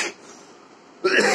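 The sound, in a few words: coughing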